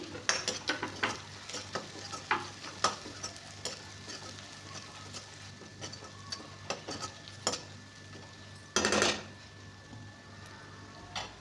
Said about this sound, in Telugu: ఇది వేసుకొని పచ్చివాసన పోయే వరకు వేయించుకోవాలండి